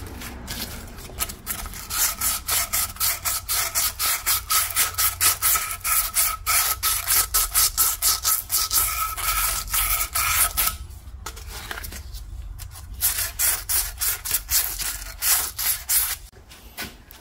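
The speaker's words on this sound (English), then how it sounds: "So we have to clean the inside of the lower control arm." Rapid rhythmic scrubbing inside the bush hole of a Holden TK Barina lower control arm, steady back-and-forth strokes at close range that pause briefly near the middle and then resume.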